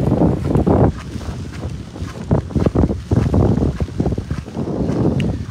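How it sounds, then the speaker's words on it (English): Strong wind roars and buffets the microphone near the New Amsterdam Hospital in Berbice, Guyana, a loud, uneven rumble with repeated gusts throughout. "Very windy, man."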